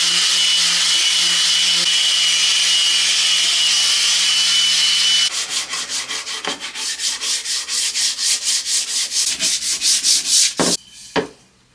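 Sanding a 1950s oak chair: a steady, loud power-sander hiss runs for several seconds, then gives way to brisk, regular back-and-forth hand-sanding strokes on the wood that end with a couple of knocks.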